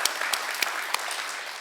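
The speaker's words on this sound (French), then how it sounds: "Je vous applaudis d'être ici." An audience at a fashion show applauds steadily, a dense wash of many hands clapping at a moderate, even level with occasional sharper claps standing out.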